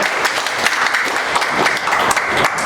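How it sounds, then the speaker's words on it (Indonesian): Audience at an industrial-estate outreach meeting in Batam applauding, lively close clapping from a room of people, loud and sustained with individual claps audible in the mix and no talk over it. "Tepuk tangan yang meriah."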